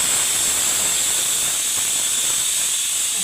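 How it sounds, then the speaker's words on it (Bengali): Steam hisses out of a pressure cooker as pressure is let off while moong dal cooks, a continuous loud rushing jet that holds steady from start to finish. "এর প্রেশারটা আমি বার করে দেবো"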